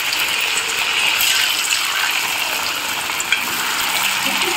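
Potatoes fry in a pan with a continuous, fairly loud crackling sizzle close by, carrying a faint clink partway through.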